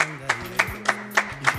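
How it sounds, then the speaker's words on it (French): Audience on a TV show clapping in time for a pastor's entrance, sharp rhythmic claps about three per second over music and a voice speaking. "Nous applaudissons en entrée de l'homme de Dieu."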